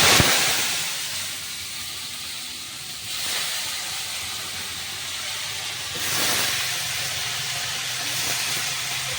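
Cauliflower florets dropped into hot oil with turmeric in a cooking pan, giving a loud sustained sizzling hiss that swells in two bursts as pieces go in, with no talking.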